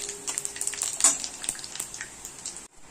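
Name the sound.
dried chillies and panch phoron frying in oil in a wok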